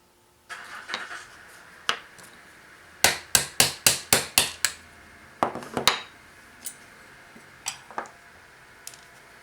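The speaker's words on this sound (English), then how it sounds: "punch out the second pin" A hammer taps a punch to drive out a pin from a Ruger Gen 1 LCP trigger assembly, with a quick burst of about seven sharp metallic strikes, then scattered lighter taps and clinks, close and clear.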